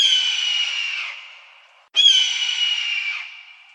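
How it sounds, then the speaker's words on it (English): Two long, harsh descending screams of a hawk, loud and close, each fading out, the second starting abruptly after a short gap. "here's some cool sound of a hawk."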